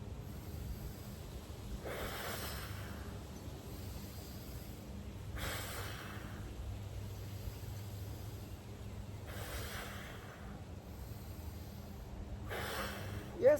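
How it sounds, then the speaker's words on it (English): Soft, slow breaths drawn in during a gentle seniors' strength workout in a garden, heard as four faint hissing inhales spaced a few seconds apart over a quiet outdoor background. "Breathe in."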